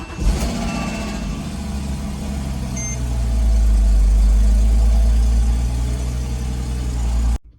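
A Porsche Cayman 987.2 engine fires up and settles into a loud, steady close-up idle that swells in the middle, then cuts off abruptly near the end, with no talking.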